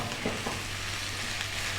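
Turkey stir-frying with garlic and onion in a hot pan, a steady dense sizzle with faint scraping stirs, continuous and close.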